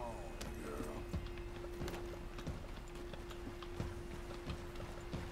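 Horse hooves clip-clop steadily at a walking pace in the Red Dead Redemption video game, rhythmic thuds sounding close over a constant background hum.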